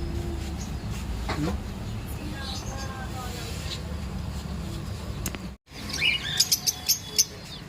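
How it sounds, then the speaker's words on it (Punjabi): Small birds chirp in quick, high, bright bursts, clustered near the end, over a constant low background rumble. "ਲਓ ਜੀ ਪੰਛੀ"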